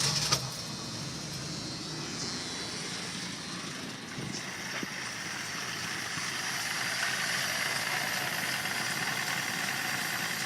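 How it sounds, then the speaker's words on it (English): A car engine idles with a steady low rumble and hum during a Seafoam treatment, continuous and moderately loud, growing slightly stronger toward the end. "So Corey, if you want to go ahead and start the engine."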